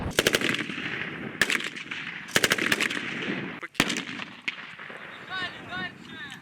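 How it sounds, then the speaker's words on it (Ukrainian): Gunfire and blasts on a military training obstacle course: sharp bursts of automatic fire and single loud reports crack out at close to middle distance, followed by a rumbling, smoky lull with faint distant noise. "дим, постріли та вибухи роблять атмосферу максимально наближену до бойової"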